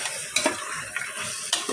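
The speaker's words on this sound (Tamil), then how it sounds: "இப்போ இதை நல்லா கிளறி கொடுத்துக்கலாம்." Cooked mutton is stirred into frying masala for biryani, giving a quick series of scraping stirs against the pan over a constant close sizzle.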